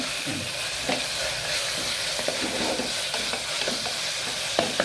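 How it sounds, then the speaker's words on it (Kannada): Masala being fried and stirred in a pan for a Kannada rice usuli, with a soft continuous sizzle and repeated light scrapes and taps of a spoon against the pan, close up and with no voices. "ಇಷ್ಟು ಹುರಿದ ಮೇಲೆ ಒಂದು 5 ನಿಮಿಷಗಳ ಕಾಲ ನಾವು ಹುರಿದುಕೊಳ್ಬೇಕಿದೆ"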